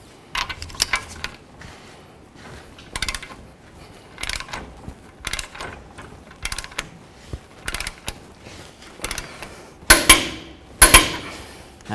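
A ratchet wrench with a 15/16 socket tightens a nut on the front lower control arm of a 2003-2009 Toyota 4Runner. Close, sharp mechanical clicks come in short repeated bursts about a second apart, ending with two louder pulls.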